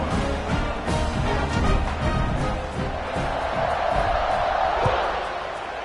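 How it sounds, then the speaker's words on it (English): A college football stadium crowd roars continuously in the distance, a broad wash of cheering with scattered whoops and thumps, heard in a game broadcast. "You think this crowd's going to get loud when their defense comes on the field?"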